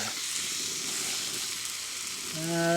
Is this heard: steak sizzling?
yes